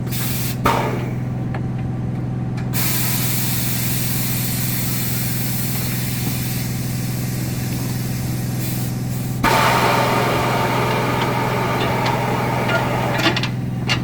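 Air blowing and hissing past a bike tire valve, a steady near rush with a low hum underneath that gets louder partway through, with no talk.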